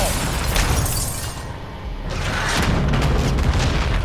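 Heavy, rumbling booms of exploding vehicles in Call of Duty: Modern Warfare II roll continuously with crackling debris, loud and dense, briefly easing before swelling again; no speech.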